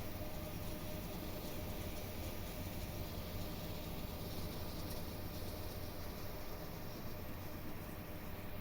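Union Pacific train number 5135 rolls past. A dense, steady rumble and rattle of railcars fills the whole span at an even level, and someone speaks briefly over it.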